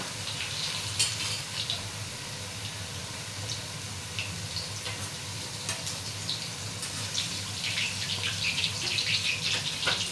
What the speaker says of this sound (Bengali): ওইদিকে ছোটো কড়াইটাও গরম হয়ে গেছে তেল। এবার কুমড়ো ফুলের বড়াগুলো তুলে দেবো আস্তে আস্তে।